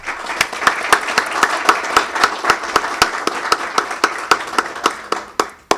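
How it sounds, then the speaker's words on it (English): Crowd claps in a steady, synchronized rhythm honoring graduating senior student athletes, loud and close, with sharp evenly spaced beats that quicken slightly toward the end. "So I just like one round of applause for our graduating seniors."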